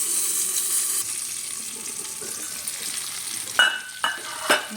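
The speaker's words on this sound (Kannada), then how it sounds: "ನೋಡಿರಿ, ಫ್ರೈ ಆಗಕತ್ತಾವ." Capsicum frying in a pan for a rustic side dish, a soft continuous sizzle with a few sharp stirring scrapes near the end, no talk.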